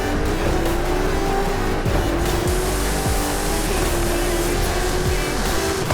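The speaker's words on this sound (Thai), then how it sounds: "รถตู้ EMS ครับ ไล่แซงซูเปอร์คาร์ไป" Racing engines and tire squeal in Forza Horizon 5 as an EMS van chases supercars, a continuous loud revving roar with cars passing by and skidding, no voices.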